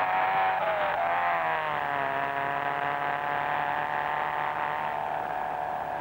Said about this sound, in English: It's full acceleration as we take third, fourth and fifth gear down Tannery Straight at about 160 miles per hour.